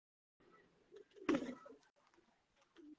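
An old black-faced Sialkoti pigeon gives low coos, with a loud close burst in the middle and softer calls before and after.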